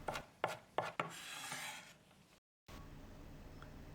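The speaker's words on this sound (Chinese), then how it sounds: "最后切成姜末。" Ginger is minced with a knife on a board: four quick, close chops, then a soft scraping rasp and a brief silence, all quiet.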